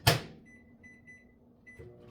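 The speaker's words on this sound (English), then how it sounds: "I'm going to throw it in the microwave and get these cooking." A microwave door shuts with a sharp bang over a bowl of frozen peas, followed by a run of quiet electronic keypad beeps and a soft later click in a home kitchen, no talk.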